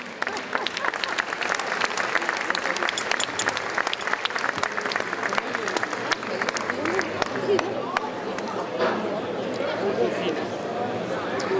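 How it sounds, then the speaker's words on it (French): Audience applause for Miss Carcassonne 2009 at a rugby league event, sustained crowd clapping with sharp claps up close and a murmur of voices underneath, running the full length. "On l'applaudit, elle va venir nous rejoindre"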